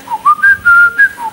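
A person whistles an imitation of a blackbird's song: a few clear, close tonal phrases with short gliding notes, rising and falling in quick succession, heard alone without talk.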